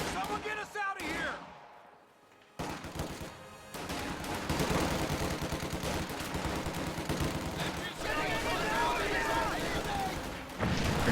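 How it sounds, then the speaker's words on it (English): Machine gun bursts in a real-time strategy war game, dense rattling automatic fire and explosions running almost continuously after a brief quiet gap, with voices of soldiers mixed in. "Probably just one more burst from that machine gun should do it."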